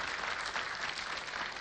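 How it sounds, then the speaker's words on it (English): A crowd at Kabarak claps in steady, dense applause that holds at an even level from start to finish, with no voices rising above it. "I think we need to clap for our brother Raymond because he has held his family."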